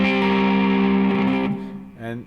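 Electric guitar strums an odd A-style chord through distortion and effects, one sustained ringing chord that decays, followed by a short second hit, close and fairly loud.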